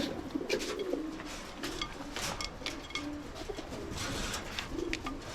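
Pigeons in boxes coo steadily in soft, low, rolling calls that repeat throughout, with faint rustling and chirps in the background.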